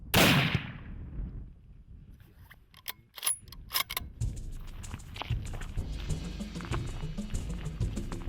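Rifle finishing shot at a kudu bull during a hunt in Namibia, a sharp loud report at the start decaying into outdoor rustle, followed by clicks and handling noises.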